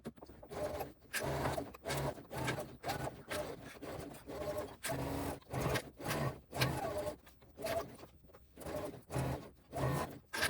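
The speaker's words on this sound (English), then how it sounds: "now we're going to sew around that edge using a basting stitch" A sewing machine runs a basting stitch around the edge of a crossbody bag, a steady whirring rattle in repeated short runs with brief pauses between them, close and fairly loud.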